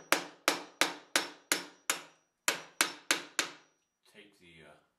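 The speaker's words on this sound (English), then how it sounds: "there's my wire, I mean my hammer, and I'm going to use this as an anvil" A hammer strikes copper tubing laid on an improvised anvil, ten crisp metallic blows in a steady rhythm with a short pause partway, close and loud, followed by a brief spoken word.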